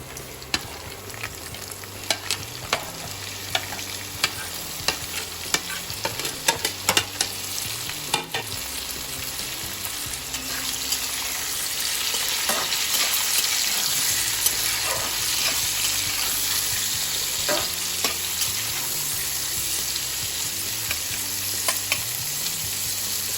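Potatoes frying and being stirred in a pan for veg chowmein: a continuous sizzle with repeated scraping strokes of a spatula, close and steady, growing a little fuller partway through, with no talking.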